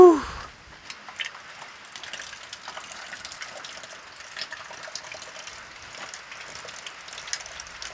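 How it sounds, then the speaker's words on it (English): Rainwater pouring into a bucket, a steady hissing gush of falling water that holds constant after a brief louder knock at the start, no voices. "Filling up the bucket."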